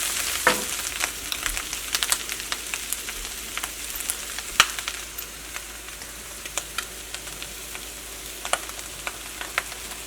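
Rice tossed with chicken in a hot wok for chicken fried rice, a constant sizzling hiss broken by frequent sharp clicks and scrapes of stirring, close and without voices.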